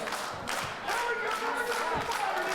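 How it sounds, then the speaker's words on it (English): Wrestling crowd noise during an OSCW TV tag-team match with Josh Magnum, a steady roar of cheering with scattered claps and thuds, filling the clip without a break. "you hear the crowd is going crazy trying to get behind Magnum"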